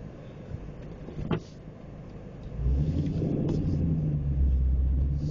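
A 2012 Dodge Challenger SRT8 engine rumbles low and steady as the car backs out, swelling louder and fuller partway through, with a brief clunk early on and no talk.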